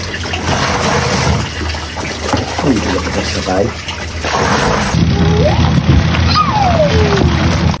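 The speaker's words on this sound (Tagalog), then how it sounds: "Habang pinapaikot na nga sa washing yung playpen" A washing machine tumbles a child's playpen in water, giving steady sloshing and splashing with a few louder surges, heard under a voice that talks throughout.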